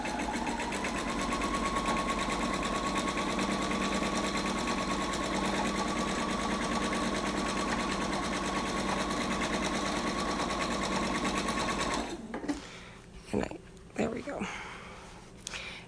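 Domestic sewing machine running a steady straight stitch on a Christmas pillow, a continuous close whirring hum lasting about twelve seconds before stopping, followed by a few brief handling clicks and rustles.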